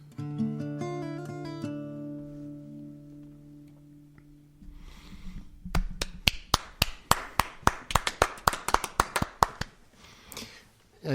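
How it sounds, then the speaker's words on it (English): Hands clapping during a two-person podcast conversation: a run of sharp, evenly spaced claps in the second half, after a stretch of sustained musical tones, close and fairly loud with no talk over them. "Usually it's just me clapping. So, I'm excited because you're here to clap as well."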